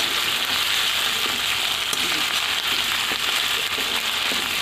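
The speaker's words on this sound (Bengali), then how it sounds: "সব একসাথে দিয়ে এবার নাড়াচাড়া করব।" Garlic and ginger paste with cumin fry in oil while being stirred. A dense, constant crackling sizzle fills the clip, with soft scraping from the stirring.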